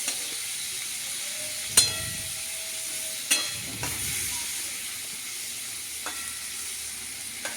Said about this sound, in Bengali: এবার ভালো করে আমি একটু কাজু কিশমিশগুলো ভেজে নিলাম একসঙ্গে সবজির সাথে।